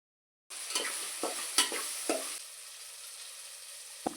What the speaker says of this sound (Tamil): முக்கால் டீஸ்பூன் மிளகாத்தூள் போட்டு கிளறிக்கவும்.